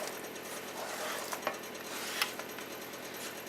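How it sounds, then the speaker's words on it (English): Chopped onion dropped into melting butter in a pan and stirred, a steady soft sizzle with a few light utensil taps and scrapes against the pan, close and without speech. "as my butter is melting over here, I'm going to go ahead and put in this onion"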